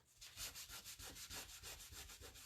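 Rubbing around the edges of a wood piece to make it look aged, a close, rhythmic back-and-forth sanding scrape of about a dozen even strokes, with no talking.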